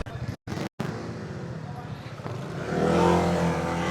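A scooter engine, an NMAX among them, runs on a rough mountain backroad from Imugan to Kayapa. It hums under close talking, cuts out briefly twice near the start, then swells louder as it revs toward the end.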